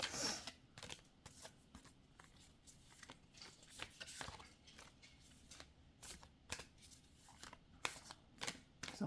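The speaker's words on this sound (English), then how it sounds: "I still have to shuffle, though, to get to the two cards." A deck of cards is shuffled up close and quietly, a string of quick riffling and snapping bursts in an uneven rhythm.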